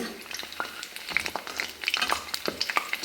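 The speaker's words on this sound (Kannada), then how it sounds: "ಗ್ಯಾಸನ್ನು ಸ್ಲೋ ಮಾಡಿಟ್ಬಿಟ್ಟು ಫ್ರೈ ಮಾಡಿ ತೆಗೆಯು ಇದನ್ನು ಬ್ರೌನ್ ಕಲರ್ ಬಂದಿದೆ" Goli baje, Mangalorean fritters, frying in hot oil on a gas stove over low flame, a soft crackling sizzle with scattered sharp pops and bubbling, close and moderately quiet.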